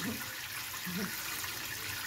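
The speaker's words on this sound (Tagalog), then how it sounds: "Flex ko ulit ang aking gripo." A kitchen faucet runs steadily during home dishwashing. The broad, soft rush of water is fairly quiet, and a faint voice murmurs under it.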